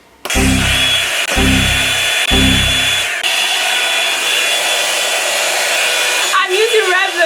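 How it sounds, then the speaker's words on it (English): A hair dryer on its lowest setting blows on damp, freshly washed hair. It starts with three short loud bursts, then runs as a steady close whir for several seconds with no talking. "Time for me to blow dry my hair."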